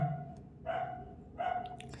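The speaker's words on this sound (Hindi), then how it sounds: "बगल में कुत्ता लोग है तो उन लोग का भी ड्यूटी है अपना भौंकना, तो भौंक रहा है" Neighbourhood dogs bark in two distinct bouts about a second apart, somewhat distant, over a steady hum of background noise.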